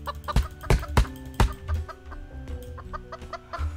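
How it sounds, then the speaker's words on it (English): Video game chicken clucks repeatedly as it is struck with an axe, a run of sharp, close squawks and clucks in quick irregular bursts, loud and alone without talk. "It sounds like the chicken gets more angry the more you hit it."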